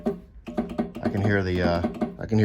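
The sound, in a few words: Triumph TR6 horn relay clicking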